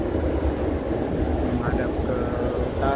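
A Lion Air airliner taxies and swings around on the apron at Sultan Hasanuddin International Airport in Makassar, its engines giving a steady, loud low roar throughout, with a brief higher whine rising partway through.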